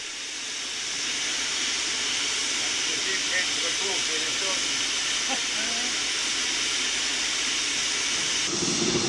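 Loud, continuous hiss of escaping steam from a Caledonian 4-4-0 steam locomotive at a Scottish depot turntable fills the clip, with faint mechanical clanks and squeals underneath.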